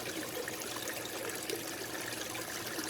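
Water trickling and splashing over rocks in a small backyard waterfall with moss, a steady, even wash of rushing sound with no pauses, close by and moderately quiet.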